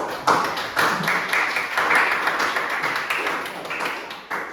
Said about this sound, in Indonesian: tepuk tangan untuk temannya yang melaksanakan